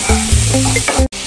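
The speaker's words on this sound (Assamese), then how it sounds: "এতিয়া এইখিনি অলপ লৰাই দিম আৰু কম জুইত ৰাখি ভাজি থাকিম" Raw mango pieces fry on low heat as a spoon stirs them, a close, loud sizzle broken by a few distinct scraping strokes and a brief pause near the end.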